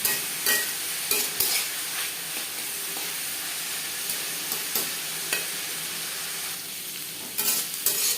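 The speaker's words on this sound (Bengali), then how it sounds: "সবজি প্রায় ফিফটি পারসেন্ট কুক করে নেব" Vegetables with cashews and raisins frying for fried rice, a steady close sizzle broken by the scrape and clatter of a utensil stirring the pan now and then.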